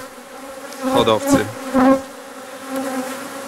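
Honeybees from the AGA3 line buzz around a hive during beekeeping work, a steady close hum with a few louder passes, while someone speaks briefly over it.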